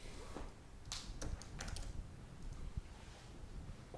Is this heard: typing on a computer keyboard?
yes